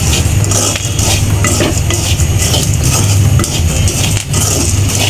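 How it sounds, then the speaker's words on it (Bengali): Chickpeas roast in a pan with a continuous dense crackle and sizzle, with stirring and scraping of a utensil against the pan, steady and loud throughout. "দেখেন কত সুন্দর ফুটেছে।"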